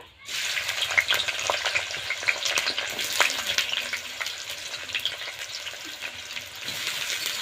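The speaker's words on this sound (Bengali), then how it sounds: "দিয়ে দেবো পেঁয়াজ পেরেস্তার জন্য" Sliced onions fry in hot oil with a few grains of sugar for birista, a dense, steady sizzle with crackles and occasional stirring, close and continuous throughout with no talking.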